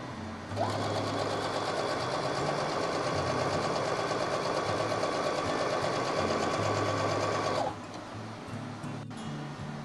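A sewing machine runs steadily for about seven seconds, stitching one straight seam across fabric at 3/8 inch, with a close, even mechanical whir that stops cleanly near the end.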